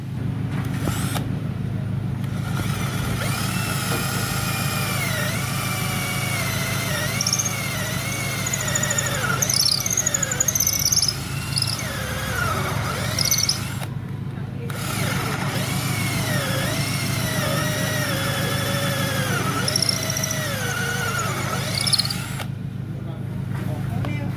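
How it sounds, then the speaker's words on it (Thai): A cordless rotary hammer drill in hammer mode bores into concrete, grinding and rattling loudly and continuously for most of the stretch, with short pauses as the trigger is released. "เดี๋ยวผมเจาะปูนให้ดูครับผม"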